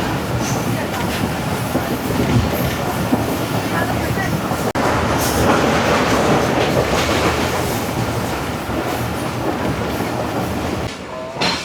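Pakistan Railway's 33UP Pak Business Express running on tracks near Hyderabad, a continuous loud rumble with clattering wheel rhythm heard from on board, steady throughout with a brief dip midway.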